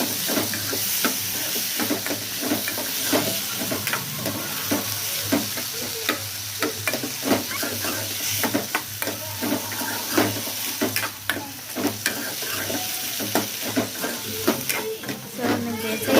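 Ginger pieces cooking with salt in a pan for ginger chutney, giving a steady close sizzle broken by frequent scraping stir strokes, with no talking.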